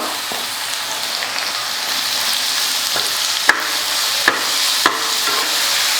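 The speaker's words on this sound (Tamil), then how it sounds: "எல்லாம் சேர்த்து ஒரு நிமிஷத்துக்கு வதக்கிக்கலாம்" Onion and carrot sautéing for kara paniyaram, a steady close sizzle with scraping stirs, three sharp utensil clacks near the middle, and no talking.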